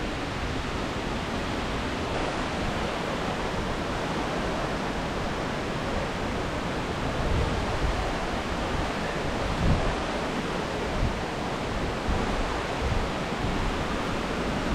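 Steady roar of spray and rushing water close to Aagaya Gangai Falls in the Kolli Hills, a dense continuous wash with light wind buffeting on the microphone and no talk.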